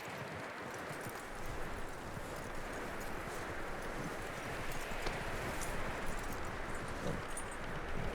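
Horse hooves clip-clop steadily in the video game Red Dead Redemption 2, over a rough, noisy outdoor background, the rhythmic steps fairly faint and continuous throughout.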